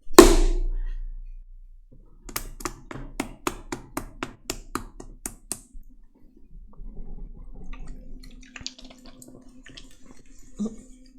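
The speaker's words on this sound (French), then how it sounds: "je vais claquer la balle de terre." About ten quick, sharp slaps of a ball of clay, evenly spaced in a fast run, then quieter handling and faint background sounds.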